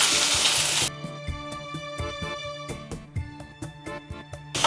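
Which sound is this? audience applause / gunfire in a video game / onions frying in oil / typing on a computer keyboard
onions frying in oil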